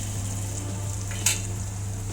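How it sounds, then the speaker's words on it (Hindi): Garlic frying in a pan of oil for a ridge gourd curry, a steady close sizzle with one brief louder crackle partway through, with a constant low hum beneath and no talking. "इसको मैं अच्छे से फ्राई करूँगी ताकि लहसुन का कच्चापन दूर हो जाए।"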